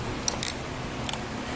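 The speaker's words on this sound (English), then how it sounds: "this is a torquing tool, so once we have it tight, it's going to make that audible click again" A torque tool tightening an Inno Aero flush roof rack bolt on a 2018 Ford gives a few sharp, quick clicks, close and distinct, over a steady background hum.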